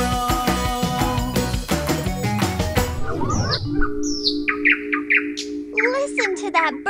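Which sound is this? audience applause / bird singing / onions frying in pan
bird singing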